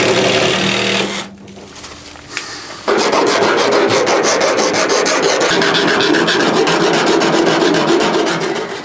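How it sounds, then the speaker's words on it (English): Steady rhythmic rasping of a file scraping back and forth over the cut edges of a hole in Ford Transit van body metal, fast even strokes, close and loud with a brief pause near the start. "Now that we cut the hole and filed the edges down"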